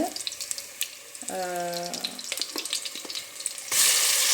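Mustard seeds spluttering in hot oil while tempering for a fish curry: scattered sharp crackles and pops, a brief steady tone partway through, then a sudden rush of loud hiss at the end.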